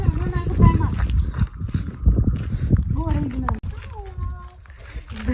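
Horse hooves clip-clop at a riding lesson, a rhythmic clatter mixed with children and adults talking excitedly over it.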